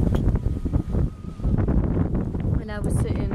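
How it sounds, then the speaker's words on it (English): Strong wind buffets the microphone outdoors, a steady roaring rumble running through the whole stretch with gusts rising and falling, while people talk underneath. "It's very windy."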